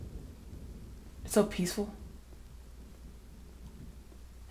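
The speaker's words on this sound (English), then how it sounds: "God, I love the rain." Rain and thunder in the survival game The Forest make a steady, low, soft wash of storm noise beneath a brief spoken line.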